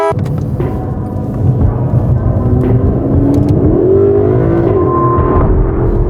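An Aston Martin DB11's 600-horsepower V12 engine revs steadily and loudly, its pitch climbing and rising in sweeps, with a deep rumbling drone underneath throughout.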